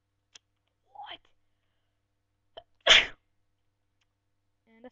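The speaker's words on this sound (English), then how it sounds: "And I sneezed." A single sharp, loud sneeze near the middle, close to the microphone, with faint breaths and small clicks before and after in an otherwise quiet room.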